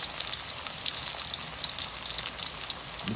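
Pork and vegetables, carrots among them, fry steadily in deep hot oil, giving a dense, even crackle and hiss that holds at close range for the whole stretch, with no voices.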